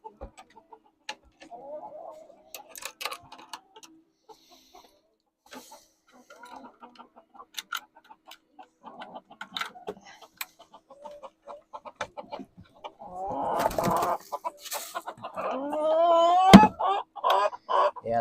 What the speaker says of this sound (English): the chickens are in here talking to me